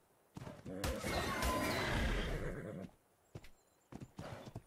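Horse neighing loudly in the video game ARK: Valguero, a long whinny followed by scattered hoof clops and short thumps, close and clear.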